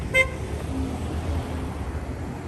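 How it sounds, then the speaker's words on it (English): A single short car horn toot sounds briefly near the start on a street by the Transylvania University campus in Lexington, Kentucky, followed by steady traffic and road rumble. "And we got a hello honk."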